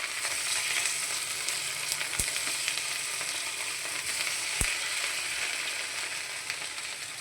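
Pieces of idli fry in hot oil over a low flame, making a steady, close, even sizzle that runs unbroken throughout, with a couple of faint sharp clicks and no talking.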